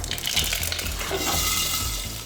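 Mustard seeds in hot oil inside a covered pan give off a steady sizzling hiss. Scattered small pops and crackles sound close by throughout, with no voices.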